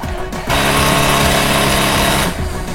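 A small engine pulled to life with a hand starter, catching after a brief rattle and settling into a loud, steady buzzing drone that runs for about two seconds before cutting back.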